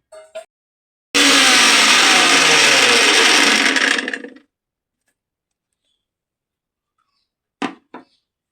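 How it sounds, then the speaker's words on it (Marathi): Mixer grinder whirring loudly for about three seconds as it grinds soaked moong dal into a fine paste, starting abruptly and winding down to silence, with a few brief clicks and knocks around it. "ही डाळ मिक्सरला वाटून घेऊ."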